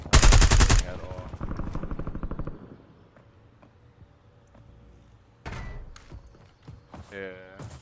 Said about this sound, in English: I don't like this gun at all.